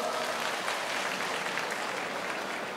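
Steady applause from a festival crowd for a girl group at an outdoor music event, a dense, even wash of clapping throughout with no break.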